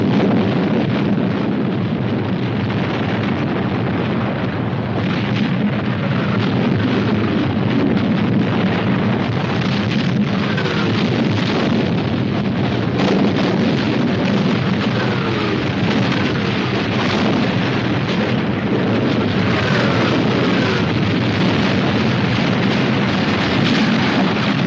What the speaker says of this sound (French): 6 kilomètres de canons anglais